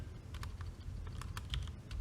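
Quick, close clicks of fingers typing on a computer keyboard, a short irregular burst of keystrokes over a faint room hum.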